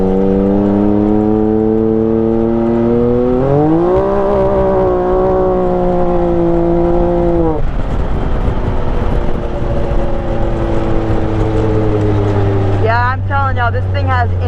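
A Can-Am X3 Turbo RR side-by-side engine runs loud and close, its pitch climbing steeply as it accelerates, holding a high drone, then dropping off before building again with a fresh rise near the end.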